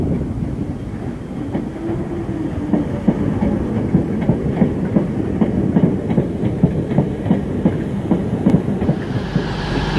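A Merseyrail train arrives at Chester station, its wheels beating out a steady clickety-clack rhythm over rail joints as it rolls in close and loud, with a brief hiss of air at the end.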